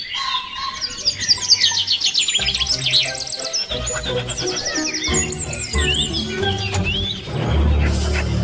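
A small warbler sings a rapid, bright stream of chirps and trills, loud and close, continuing for several seconds with slight background noise and no talking.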